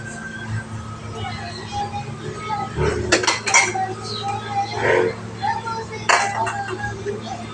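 Dishes, pots and cutlery clink and clatter at a sink during a big washing-up session, with scattered knocks and scrapes over running water, and someone talks between the clinks.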